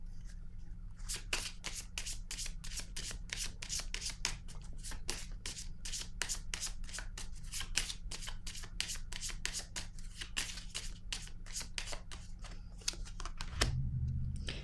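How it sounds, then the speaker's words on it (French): Playing cards are shuffled and handled, producing a long run of rapid, crisp riffling flicks at close range, steady and fairly quiet, ending with a soft thump as a card is set down. "Je vais piger une autre carte ici."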